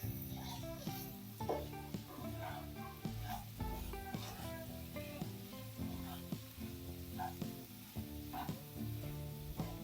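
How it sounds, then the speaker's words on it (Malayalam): Vegetables and semiya for upma stirred in a pan give a faint, low sizzle under repeated spatula scrapes and soft knocks against the pan, close and steady, with a tonal hum running underneath. "ഒന്ന് ഇളക്കി കൊടുക്കട്ടെ."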